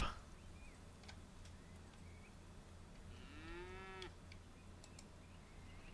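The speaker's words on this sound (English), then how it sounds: "This is a mooing cow." A cow moos once in a city-building video game: a single drawn-out, rising low call near the middle, set against quiet ambient hum and faint ticks.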